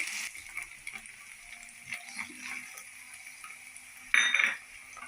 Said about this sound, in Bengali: এটা এখন মিক্সড করবো পেঁয়াজের সাথে